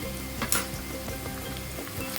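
Ginger garlic paste sizzles in a hot pan as it is stirred, with a steady frying hiss and a few soft scraping clicks up close.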